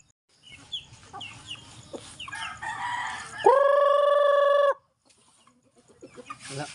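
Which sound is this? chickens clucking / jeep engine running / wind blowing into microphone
chickens clucking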